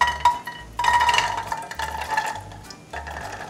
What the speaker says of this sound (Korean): 콩자반 만들 냄비에 불린 콩을 모두 넣어주세요